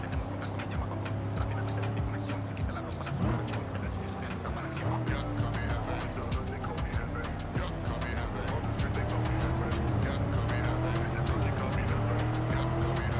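A car in Cyberpunk 2077 drives through the city with a steady engine drone that rises and falls through gear changes, and tires squeal at moments. Someone talks over it throughout.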